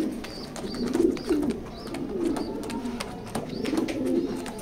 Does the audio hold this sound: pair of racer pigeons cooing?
yes